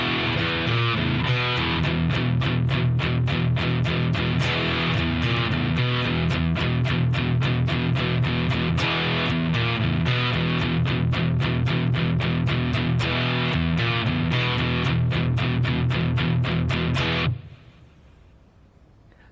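Distorted electric guitar plays the verse part of Velvet Revolver's Sucker Train Blues in E5, with a riff phrase and chugging eighth-note groove, loud and steady for about seventeen seconds before stopping abruptly.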